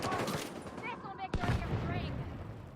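Rapid enemy minigun fire in the shooter game The Division 2, a dense burst of automatic shots with a sharp crack midway, mixed with other game noise.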